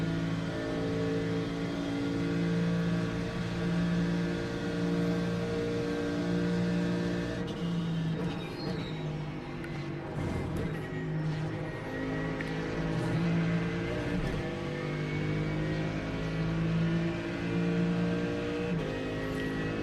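A Ferrari race car engine in iRacing drones steadily and loudly with layered harmonic tones, holding a sustained high-rev note through the straight with slight pitch shifts, no talk over it.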